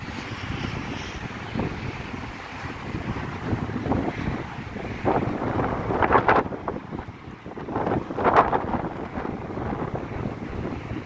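Sandstorm wind in Bahrain near open water, blowing steadily with loud buffeting gusts that swell around the middle and again toward the end, with heavy rumble against the microphone and no voices.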